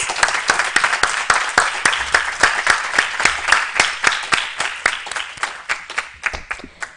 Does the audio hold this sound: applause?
yes